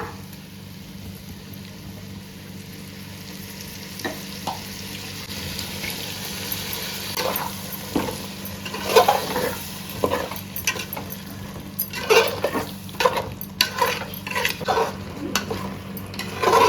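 Ground masala paste cooking in a pot for a chicken curry with field bean dal, stirred now and then with a spoon; steady low simmering hiss with scraping strokes that grow busier and louder toward the end, no talking.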